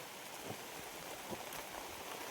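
Steady, soft rain falls in a Konkan village on a morning near a family home, a quiet even wash of drops with no voices.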